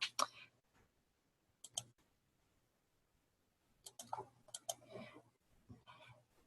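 Quiet clicks from a computer mouse used in study software, arriving in small clustered bursts separated by near silence, faint and close.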